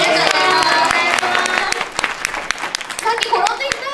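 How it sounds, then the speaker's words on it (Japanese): An audience at a live stage show in Tama Plaza claps enthusiastically in loud, dense applause, with sharp individual claps standing out as the clapping thins slightly, and voices talking over it. "じゃあちょっと一回戻ってもらって大きな拍手お願いします。"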